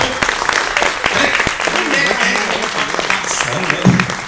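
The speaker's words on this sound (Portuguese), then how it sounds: "É um aplauso, gente" Clapping from a small group of theatre audience members runs throughout, dense and steady, with voices talking over it.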